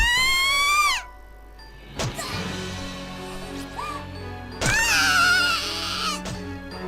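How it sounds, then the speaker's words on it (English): In Corpse Party, a boy lets out loud, piercing, high-pitched screams of terror in several separate bursts, with eerie tonal ambience and quieter stretches between them. "I've never heard screaming like this before. It's pure primal terror, cutting through the air like a perfect sine wave."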